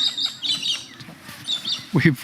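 Parakeets and lorikeets squawk and chirp in the wild in Phillip Island, Australia, giving bright repeated calls over background noise, with a louder harsh squawk near the end.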